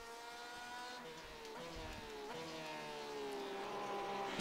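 A 2018 Porsche 911 RSR GTE race car in iRacing, its engine holding a high steady whine with quick downshift blips, then climbing in pitch as it accelerates, heard from inside the car.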